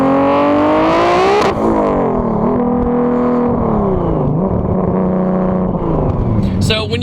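A 1000-horsepower Toyota Supra running on E85 fuel revs hard through a Boost Logic exhaust, the engine note climbing and falling in loud, close throttle blips with a brief sharp rise near the start.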